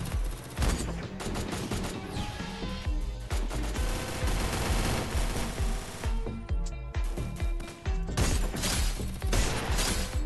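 Sustained gunfire in the Free Fire mobile shooter, dense rapid automatic bursts and heavy shots crowding together loud and close, with brief gaps, over nearly ten seconds.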